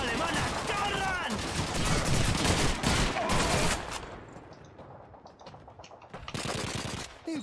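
Rapid bursts from an MG-42 machine gun rattle through a World War II battle in Call of Duty 2 on PC, loud and dense at first, then thinning out before another burst near the end.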